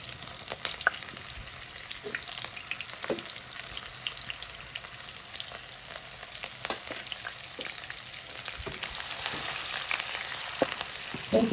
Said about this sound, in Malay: sekarang kita akan masukkan bawang merah yang kita dah iris tadi